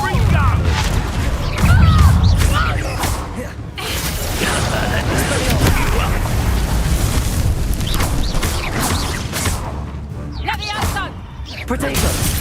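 The Confringo explosion spell in the Hogwarts Legacy video game lands with booming thumps and crashing blasts amid a dense, loud battle mix of whooshes and effects, overlapping with a voice shouting throughout.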